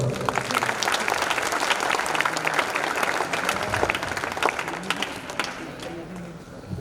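Audience applause at a regional youth training camp in Pune, a dense, steady wash of many hands clapping that carries on for several seconds and eases slightly toward the end.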